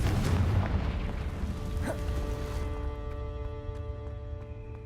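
The Confringo blasting spell in Hogwarts Legacy sets off a single loud booming explosion, which fades into a ringing, shimmering tail.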